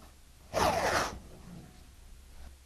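Painter's tape pulled off the roll while masking trim and ceiling, one short, close tearing rip about half a second long, followed by quiet.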